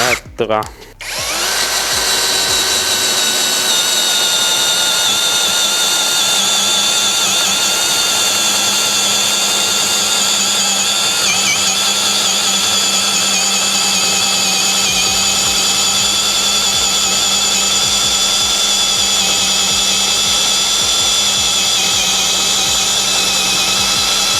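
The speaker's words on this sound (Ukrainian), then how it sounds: "Пробуємо сверло Форстнера на 32 мм." Worcraft CHD-S20LiBAB brushless cordless drill boring into wood with a 32 mm Forstner bit, a loud, steady high-pitched whine running continuously after a brief start-up.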